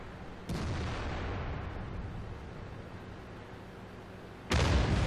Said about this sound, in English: Yep, so there's the artillery.